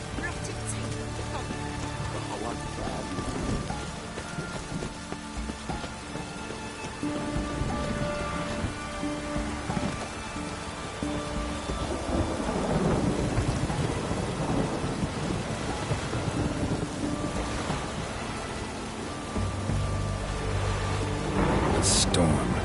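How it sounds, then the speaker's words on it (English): Heavy rain and rolling thunder of a storm in The Witcher 3: Hearts of Stone, a dense continuous downpour with low rumbles throughout, mixed with spoken voices and game sounds. "A storm, damn it."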